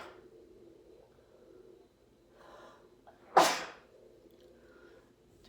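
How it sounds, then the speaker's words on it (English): A single sharp sneeze bursts out around the middle, loud and close, against a quiet indoor background with faint murmurs and shuffling. "she just sneezed"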